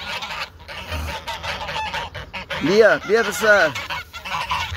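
Geese honk loudly nearby in a few harmonic calls near the end, while a person calls out to them repeatedly in Persian throughout.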